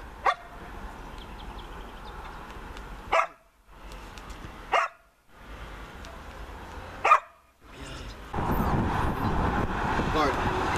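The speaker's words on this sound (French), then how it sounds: "elle aboie" A dog trained to bark on command lets out three or four sharp, close barks separated by pauses, and a voice talks between them before louder broadband noise comes in at the end.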